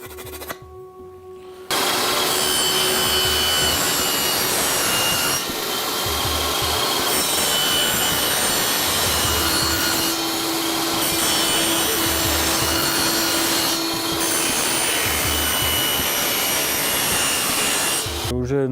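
Wood for a Nogai dombra is cut by a power tool, a loud, close, continuous rasping whine broken by rhythmic dips and surges over most of the passage, with a brief quieter start.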